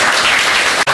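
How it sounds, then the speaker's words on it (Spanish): Applause from an audience at a Latin American constitutional law lecture, a dense steady wash of clapping filling the whole second, loud and close, briefly dipping just before the end. "les pido un gran aplauso"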